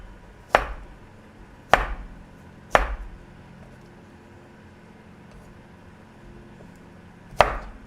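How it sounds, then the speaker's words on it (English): Knife slicing through cucumbers for pickling on a cutting board, four sharp separate chops spaced unevenly, close and clear over a quiet kitchen background. "I'm just slicing them up."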